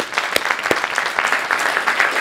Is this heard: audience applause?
yes